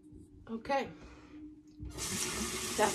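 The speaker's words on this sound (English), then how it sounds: "I rinse off the leaf in hot water, super hot water every time." Hot tap water runs over a dermaplaner blade at a bathroom sink, a steady hiss that starts partway through and continues, following brief talk and a faint clink.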